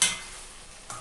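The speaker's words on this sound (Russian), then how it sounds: "папоротник жарится, фритюрится до состояния румяной корочки, чтобы каждая долька была обжарена" Bracken fern frying in a pan of hot oil, stirred until golden, giving a steady close sizzle that is loudest at the start and briefly swells again near the end.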